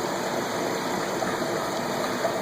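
A 3,500 gallon-per-hour main pump drives an aquarium filtration system with DIY overflows on drilled tanks, giving a steady, close rushing of flowing water with a constant hum and no speech.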